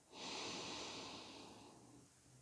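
A slow, deep breath is drawn in during a calm guided meditation. It is one long, soft, airy inhale, close and quiet, that fades gradually with no talking over it.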